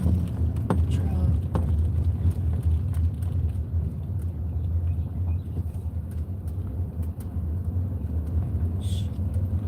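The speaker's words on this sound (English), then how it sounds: "Y'all hear my raggedy damn truck?" A rough, worn-out old truck engine running while driving, a continuous deep rumble with road noise that stays loud and steady throughout, with voices heard inside the cab.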